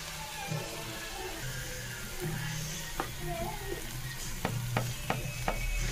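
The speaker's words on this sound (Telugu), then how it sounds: "బాగా ఫ్రై అవ్వాలి. అలాగే ఇందులో పచ్చి బఠానీ కూడా వేసుకున్నానండి" Green peas frying in a pan of oil for paneer curry give a steady close sizzle with occasional stirring scrapes and a few sharp clicks, heard on their own without talk.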